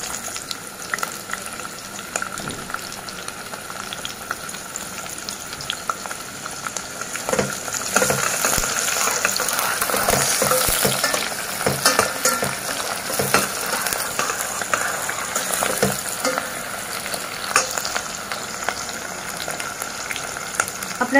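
Chunks of onion fry in a pan for Maharashtrian mutton, a steady close sizzle with occasional stirring scrapes that swells louder midway and then settles.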